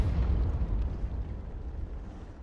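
A heavy artillery shell blast in a tank battle game booms and rumbles low and loud, then decays slowly over a couple of seconds, with no voices.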